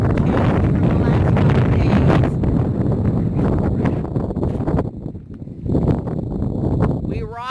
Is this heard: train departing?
no